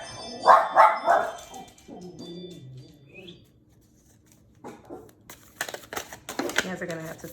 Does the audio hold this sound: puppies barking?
yes